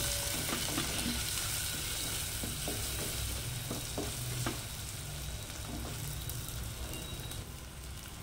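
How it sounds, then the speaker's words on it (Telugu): Raw banana frying in a pan as turmeric is stirred in, a steady close sizzle with scraping stir strokes and occasional soft taps of the spoon, no voices. "కొంచెం పసుపు వేసి కలుపుతాను."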